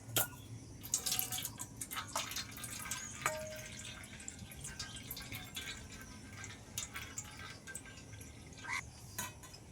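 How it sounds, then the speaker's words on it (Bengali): Water drains through a strainer from soaked flattened rice (chira) for a mango chira pulao, giving faint irregular drips and trickles over a low steady background hum, with no talking. "আমি একটা ছাঁকনি নিয়েছি এর মধ্যে দিয়ে দেবো তাহলে জলটা ভালোভাবে ঝরে যাবে"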